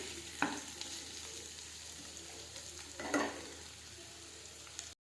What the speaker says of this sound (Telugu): ఎంత ఫ్రై అయితే అంత బాగుంటుంది